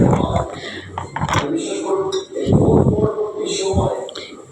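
Metal utensils clink and scrape against a pan as spices are stir-fried in a home kitchen, with a close, busy clatter under a voice and household background noise.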